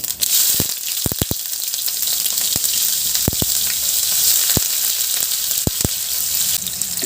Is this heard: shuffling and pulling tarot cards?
no